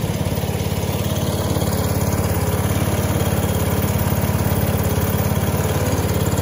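Honda HSS 928 snowblower engine running just after a cold start in -5F weather, a loud, close, steady mechanical drone with even pulsing and no talk.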